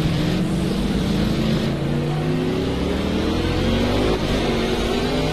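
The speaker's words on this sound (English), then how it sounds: "I can hear the other engines, but I can't kind of pick them apart" Engines of several cars in a racing video game, including a W Motors Lykan Hypersport, make a steady, loud drone throughout. Their pitch climbs slowly as the engines gain speed, and no one speaks.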